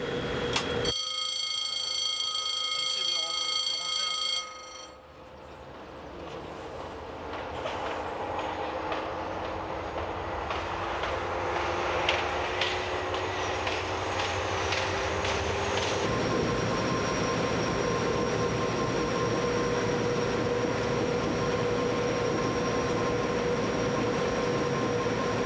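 A French CC72000 diesel locomotive accelerating, its engine drone rising steadily in pitch beneath rolling wheel noise and faint rail clatter, continuous and fairly close from inside the cab.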